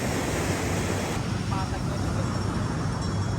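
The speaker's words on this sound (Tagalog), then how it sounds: "Ang lakas nga ng alon." Strong ocean surf at a beach in Zambales, a loud continuous roar of crashing waves mixed with wind buffeting, filling the whole short stretch.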